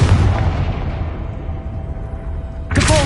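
A Confringo blasting spell explosion in Hogwarts Legacy, a loud booming blast that decays over a couple of seconds, followed by a sharp new burst at the end.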